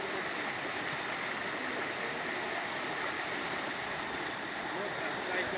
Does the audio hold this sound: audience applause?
no